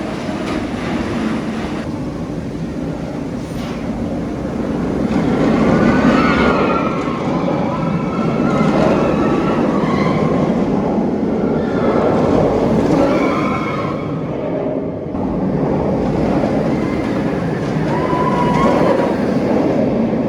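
The Nemesis roller coaster at Alton Towers roars along its track in a sustained, loud rumble and rattle, with surges and dips in intensity and faint voices in the mix.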